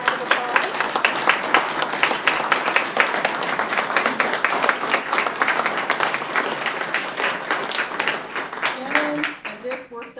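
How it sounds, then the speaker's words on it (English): Audience applause at a fireside chat about the Mann Gulch Fire, crisp individual claps in a lively steady stream, thinning toward the end as a voice starts talking. "I'd love to give these guys a round of applause"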